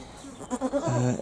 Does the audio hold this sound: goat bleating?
yes